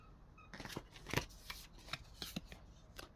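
Tarot cards are shuffled and handled up close, with a series of soft papery riffles and flicks at irregular moments, one card being drawn from the deck, no speech over it.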